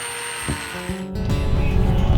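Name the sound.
angle grinder with sanding disc on rotten boat wood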